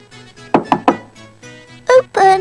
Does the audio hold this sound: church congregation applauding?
no